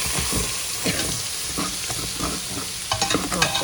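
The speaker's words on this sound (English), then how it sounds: "I'm gonna just put some of the broth in there because I want to deglaze some of the" Broth hitting a hot pan coated in meatball drippings sizzles and hisses steadily while a utensil scrapes and stirs, with sharper clinks of metal near the end; no one speaks.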